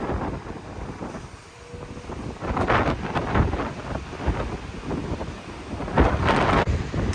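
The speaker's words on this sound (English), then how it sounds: "I've never seen water waves splash on top of the rocks." Storm waves crash and splash over coastal rocks on the Oregon shore while strong wind buffets the microphone, making a continuous loud roar with surging bursts.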